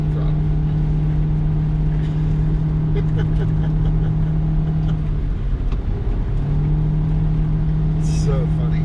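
Cabin of a 2021 Toyota Prius AWD-e driven at wide-open throttle in the city, a steady loud engine drone with a constant hum that briefly dips and returns, continuous road noise throughout.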